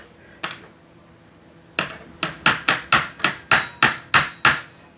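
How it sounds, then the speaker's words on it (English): A small hammer taps a scooter's metal brake caliper sharply: one lone tap, a pause, then about nine quick, evenly spaced strikes close by. "Let me get my little hammer and tap it back a little bit."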